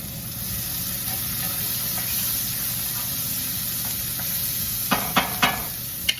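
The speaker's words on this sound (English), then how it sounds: "A little bit of olive oil, onions. Okay, I'm going to cook these down." Onions cooking down in olive oil in a hot pan, with a steady soft sizzle and hiss throughout and a few sharp utensil clicks near the end.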